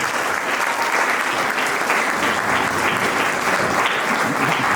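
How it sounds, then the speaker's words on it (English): Sustained, loud applause from a Model United Nations conference audience at the closing, a dense and even roar of many hands clapping with no break from start to finish. "I ask you all to give yourselves a big round of applause for the wonderful performance"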